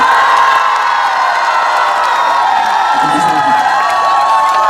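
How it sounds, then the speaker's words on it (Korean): Loud crowd noise at a lively concert by singer Park Seo-jin, with cheering, shouts and scattered clapping blending into a continuous roar. "큰 박수 한번 주시겠어요?"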